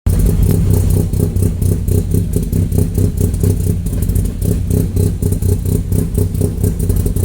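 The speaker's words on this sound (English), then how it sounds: "You can see it's running like it's got some serious cam in it." A VW Golf Mk1 GTI engine idles roughly, with a loud, lumpy, uneven pulsing rhythm like a heavy cam. It holds steady and close throughout.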